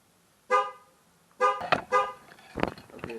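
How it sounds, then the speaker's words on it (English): A 2012 Chevrolet Malibu's horn gives two short, distinct honks about a second apart after a tire pressure sensor relearn, followed by a few quieter clunks and knocks nearby. "once you hear the two honks, that means they have all been relearned"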